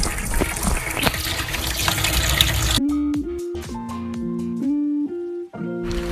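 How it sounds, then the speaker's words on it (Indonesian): Water pours and splashes steadily for a few seconds, then gives way to a run of melodic electronic tones. "Kemudian bilas dengan air mengalir."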